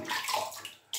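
A Gillette Blue 3 Hybrid razor is rinsed under running tap water, making a short, close splashing gush that fades, then starts again abruptly.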